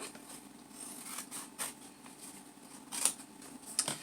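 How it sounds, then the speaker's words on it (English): Scissors cut through folded cardboard for a recycled-art project, giving a series of irregular crisp snips and crunchy slicing sounds at close range, moderately quiet, with no speech. "I'm going to fold this piece in half and cut it."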